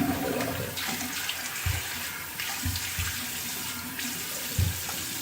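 Water pours steadily from a bathroom tap while someone wets their face before shaving, a continuous close rushing splash with a few soft splashes of hands in the stream.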